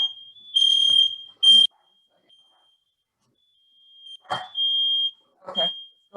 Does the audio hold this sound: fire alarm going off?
yes